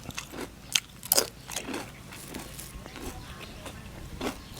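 Fried chicken skin crunches under a few sharp bites, with two loud crisp bursts near the start followed by quieter chewing crunches, close to the mic.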